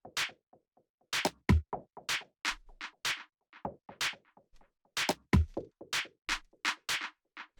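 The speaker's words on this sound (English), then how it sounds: "The next thing that we have here is the percussion," Electronic percussion loop from a minimal tech house track: dry, clicky hits in a tight syncopated pattern, with occasional low thumps under the higher ticks, close and moderately loud with no voices.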